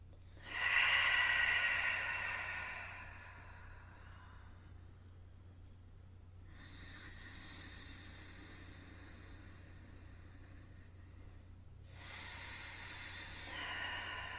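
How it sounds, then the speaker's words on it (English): A person takes slow, deep breaths during a guided meditation, three long airy exhales close to the mic separated by quiet pauses, over a faint low hum. "let's take 3 deep breaths in and out."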